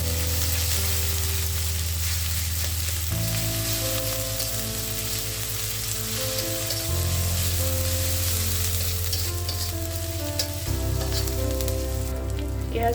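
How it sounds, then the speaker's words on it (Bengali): A paste of ground onion, garlic and a little cumin fries steadily in a pan, a continuous loud sizzle running throughout under background music. "ভালোভাবে মশলাটা একটু ভেজে নেব।"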